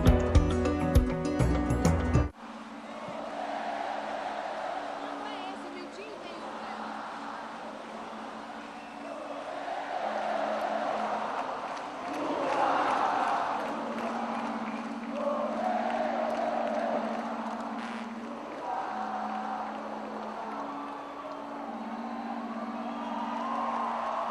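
A vast crowd of over 7,000 people at a CELAC gathering gives a sustained ovation, a distant, swelling roar of applause and cheering in waves after a brief loud burst of music at the start.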